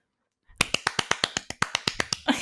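Hand clapping, a steady run of about a dozen sharp, evenly spaced claps, close and crisp with no voices.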